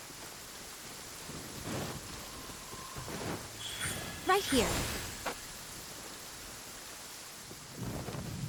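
Rain falls steadily in Genshin Impact while a thunder rumble rolls through midway, with characters talking over the storm.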